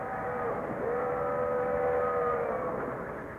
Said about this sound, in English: so listen for the whistle